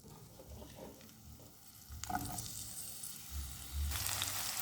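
Chopped onions frying in oil in a pan, a low crackling sizzle that swells louder about halfway through and stays dense to the end.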